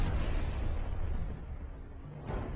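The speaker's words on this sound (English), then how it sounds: "why'd I hit the grenade button?" A grenade explodes in the Medal of Honor video game, a loud, broad rumbling blast that fills the whole clip and slowly fades with a second swell near the end.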